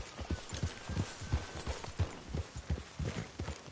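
A horse's hooves clip-clop in a steady, fairly quick rhythm at moderate distance. The sound is fairly faint and has no talk over it.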